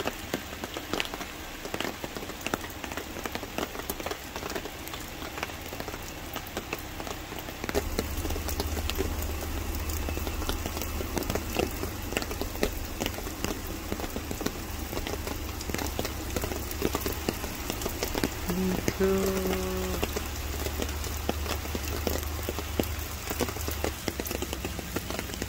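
Steady rain patters on a surface in a continuous, moderately quiet wash of drops, with a low droning hum joining about a third of the way through.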